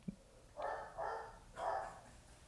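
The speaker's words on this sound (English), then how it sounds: "Hey, my dog's barking." A pet dog barks indoors three times in a row, each bark fairly loud and drawn out, heard alone with no talking over it.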